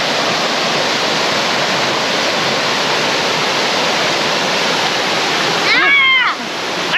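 Waterfall in Georgia roaring as a loud, unbroken wash of rushing water close by, with a brief vocal sound near the end.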